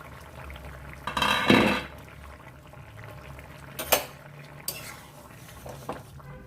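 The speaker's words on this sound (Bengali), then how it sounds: "এবার ঢাকনাটা খুলে দেখে নেব সব কিছু সেদ্ধ হয়ে গেছে কিনা" A pot lid is lifted off a simmering cauliflower, potato and eggplant curry with a clattering metallic rattle, followed by softer clinks and scrapes of a utensil over a low bubbling background.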